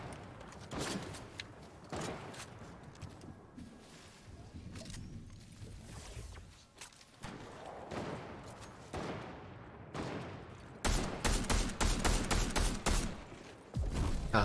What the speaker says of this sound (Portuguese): Eu tô vendo que os caras estão atirando em mim